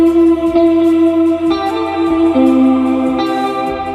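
A full electric guitar chorus part rings out loud and sustained, with several note changes looping over a steady bass tone and no voices.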